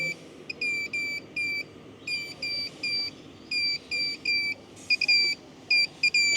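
A DIY inverter generator powered by an 18V Makita power tool battery emits repeated high-pitched beeps in quick bursts of three or four, cycling steadily over a faint background hum while still running under load.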